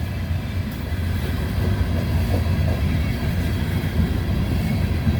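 Heavy grain freight train locomotives labor up a grade, a steady, loud low-frequency engine rumble with rail noise sustained throughout, no voices.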